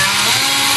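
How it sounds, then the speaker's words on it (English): A power drill runs through holes into plywood, a continuous loud high whirring grind heard up close in one brief steady burst. "And I just drill through"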